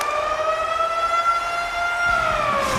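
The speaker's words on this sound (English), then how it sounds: "There's the buzzer bringing the second period to an end." Period-ending horn in the NHL 26 ice hockey video game, a loud sustained tone that sounds alone, holds level, then dips slightly in pitch near the end.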